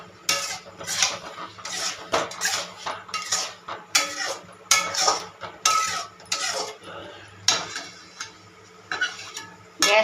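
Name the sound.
stirring tamarind and jaggery mixture in pan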